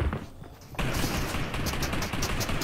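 Rapid gunfire in the Fortnite video game hits the player, a dense continuous burst of shots that starts abruptly and keeps rattling close and loud to the end.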